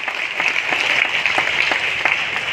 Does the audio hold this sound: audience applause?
yes